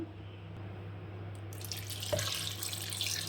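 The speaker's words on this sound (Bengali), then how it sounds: "জল দিয়ে ভালো করে দিয়ে নেবো" Tap water runs steadily into a kitchen sink while food is rinsed, starting faint and swelling into a full, close splashing flow halfway through, with no voices.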